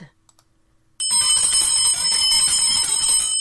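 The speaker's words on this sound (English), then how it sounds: "every time you hear the bell, I'm going to say something that I think's pertinent" A single bell is struck once and rings on, a bright, steady metallic tone with sustained overtones that fills the rest of the clip after a brief near-silent lead-in.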